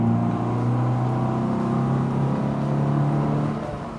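The engine of a Mercedes 190SLR, a former race car, revs up loud and close from inside the car, a strong droning tone climbing steadily before easing off at the end.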